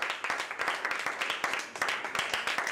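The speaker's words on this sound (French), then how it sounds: "Acclamons encore le Seigneur" Church congregation clapping to acclaim the Lord, rapid rhythmic hand claps from a group, fairly close and steady, with voices faintly underneath.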